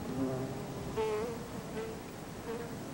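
Bees and other insects buzz steadily around blossoming plants on an Atlantic island, a close, continuous drone that swells briefly several times as individual insects pass near.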